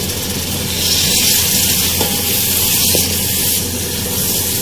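Yogurt frying with chickpeas in a hot pan for restaurant-style chana masala, giving a loud, steady sizzle and hiss close by with a couple of faint taps and no talk.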